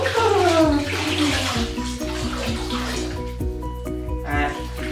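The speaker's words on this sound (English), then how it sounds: "we're going to get the jug of cold water and we're going to do a pour over the back and chest" Cold water pours from a jug over a child's back and chest during a bath, a steady splashing stream close by with a faint voice underneath.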